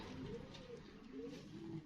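Homing pigeons, including a king pigeon, coo in soft, low, rolling calls, several overlapping repeats close by over a faint background hiss.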